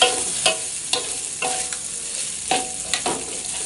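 Spatula strokes scrape and stir fried rice in a frying pan in irregular bursts, with a steady sizzle of frying underneath, close and moderately loud.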